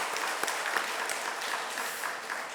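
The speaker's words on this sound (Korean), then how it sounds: "우리 한번 박수 한번 우리 좀 격려했으면 좋겠습니다" A church congregation claps for the choir during a Sunday worship service, a steady, moderately loud patter of many hands that continues evenly for a few seconds.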